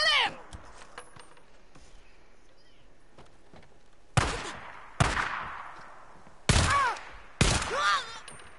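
Several sharp bursts of gunfire from the video game Days Gone ring out in the second half, loud and close, each decaying quickly, after a quieter stretch of faint background noise.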